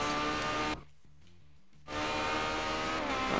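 Ferrari 360 Challenge Stradale race cars scream by on track at high revs, the loud engine roar cutting out sharply for about a second before surging back at full volume.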